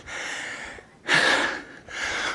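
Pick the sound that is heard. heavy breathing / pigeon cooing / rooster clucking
heavy breathing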